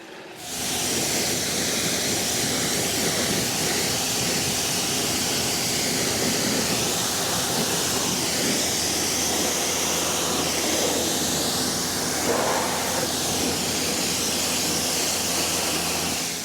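Pressure-washer spray rinses a Lucid Gravity Dream Edition during its first wash, a loud, steady, hissing rush of water that runs unbroken throughout with no voices.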